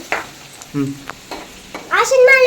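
Garlic sautés with salt in a pan: short, separate bursts of scraping and stirring, with a voice rising near the end.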